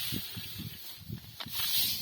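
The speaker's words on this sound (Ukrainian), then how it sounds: "і вітер піднявся, трохи роздмухує сіно." Steady wind blowing and rustling through dry hay, a soft continuous hiss with faint crackling stirs and gusts swelling toward the end.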